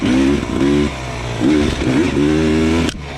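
A 2021 Beta 300 RR dirt bike climbs a steep forest trail in second gear, its engine loud and close with throttle bursts that rise, dip and surge again before cutting back near the end.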